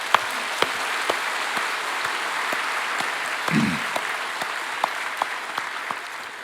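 A church congregation claps during a worship service, a steady, even clapping with sharper individual claps standing out and a brief murmur midway.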